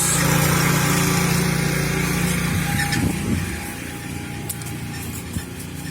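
A lawn aerator's small engine runs steadily close by during a spring lawn cleanup, a continuous droning hum that eases slightly toward the end, with no one talking.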